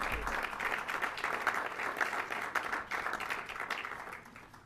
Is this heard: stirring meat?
no